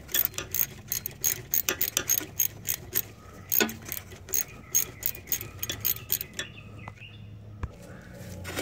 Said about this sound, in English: here we are tightening these 10 millimeters back up here